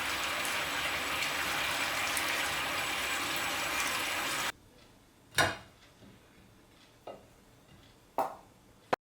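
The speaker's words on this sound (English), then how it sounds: "Then drain it immediately." Hot water from boiled broccoli rushes out in a steady pour for several seconds, then stops, followed by a few sharp knocks and clunks of cookware.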